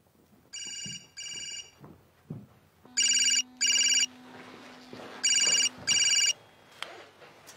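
A telephone rings in two double bursts of an electronic ringtone, loud and clear, with soft indoor shuffling and background noise between the rings.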